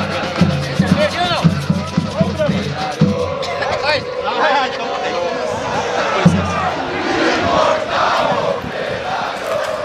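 The organized supporters Trem Fantasma chant in the curve of the stands at Germano Krieger stadium, a loud massed crowd shouting in rhythmic bursts with drums pounding underneath.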